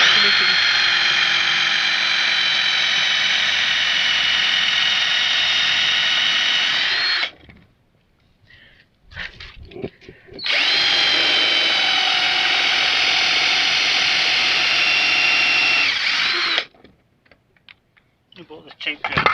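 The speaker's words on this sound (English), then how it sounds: "You bought this cheap drill." A cheap Raider power drill runs in two loud sustained bursts of several seconds each, a buzzing whine separated by a short pause with faint handling noises, with no talking.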